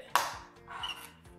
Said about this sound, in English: I'm going to cut it off with the head.